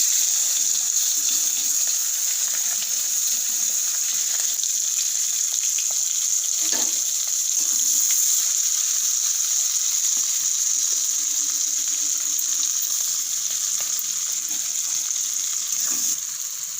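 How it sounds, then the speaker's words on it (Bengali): Capsicum pieces fry in hot oil in a pan for a curry with potatoes, giving a steady, close, loud sizzle that runs unbroken throughout, with faint stirring knocks beneath. "এবার তেলের মধ্যে দিয়ে দেবো ক্যাপসিকামগুলো।"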